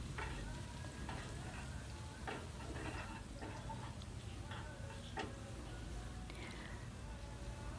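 Butter melting in chicken-frying oil in a pan over a medium gas flame, a quiet, steady sizzle with scattered ticking pops, faint and close.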